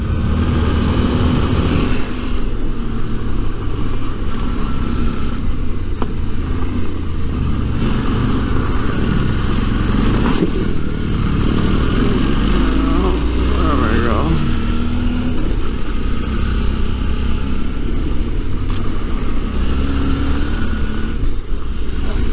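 A Suzuki V-Strom 650 middleweight adventure motorcycle ridden over washboard dirt roads: a steady, loud engine drone with wind rumble that runs the whole time, with faint talk underneath.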